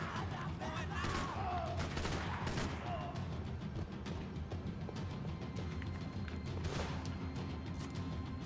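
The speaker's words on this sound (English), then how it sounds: "Stop shooting when I shoot you" Gunfire crackles in the video game Max Payne 3 as dense, continuous bursts of shots and impacts under a steady loud wash of battle noise, with a voice briefly talking over it.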